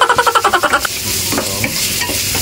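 Garlic going into a hot pan for frying: a quick run of about nine rhythmic stirring scrapes, then a steady close sizzle with a few light clicks and taps.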